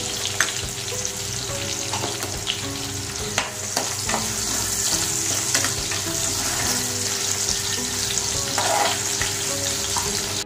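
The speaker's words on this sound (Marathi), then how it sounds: "इथे आपले बटाटे थोडेसे परतून झालेले आहेत" Potatoes for veg kurma sauté in a pan with a continuous close sizzle, broken by frequent clicks and scrapes of stirring, with no talk.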